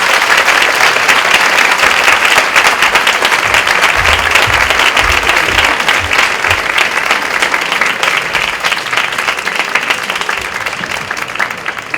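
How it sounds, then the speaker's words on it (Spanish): Sustained, loud audience applause fills the room at a speech by an ambassador in Madrid, dense steady clapping that holds for the full stretch and only slightly eases toward the end. "Pido un aplauso para el embajador."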